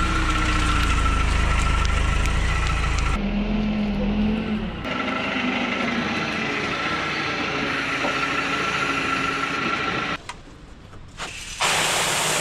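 A seed auger runs to fill a seed tender on a farm, a steady mechanical drone with rattling and rumbling, loud at first and then continuing with a grinding churn, briefly dipping before resuming.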